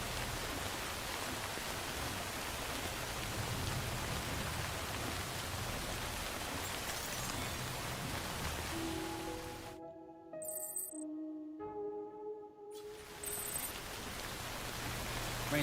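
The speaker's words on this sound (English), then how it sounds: "Damn rain won't quit." Heavy timefall rain pours steadily in the video game Death Stranding, a dense hiss that drops out for a few seconds midway while sparse tonal game chimes play, then returns.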